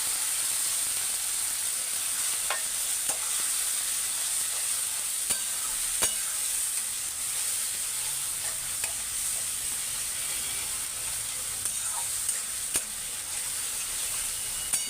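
Fried fish in a pan sizzles with a constant hiss after a spice mixture is added, with occasional sharp pops and spatula clicks throughout and no speech.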